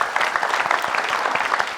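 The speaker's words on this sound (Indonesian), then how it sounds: "Untuk itu kita berikan sambutan dengan tepuk tangan Ustadz Danu." Studio audience applauding at a televised Indonesian spiritual talk show, dense steady clapping from many hands filling the whole moment without speech.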